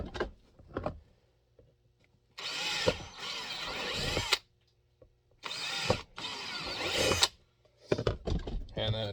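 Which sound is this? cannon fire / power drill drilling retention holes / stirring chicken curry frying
power drill drilling retention holes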